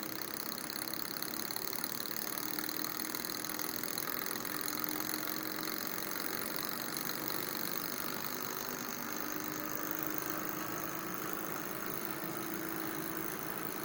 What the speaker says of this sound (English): Now we're going to prime the Stirling engine, and you'll see that it starts to operate gradually and kind of quickly, and it's speeding up at this point.